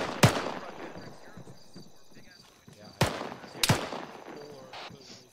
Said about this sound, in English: We got some sort of fucking heavy cannon to our northeast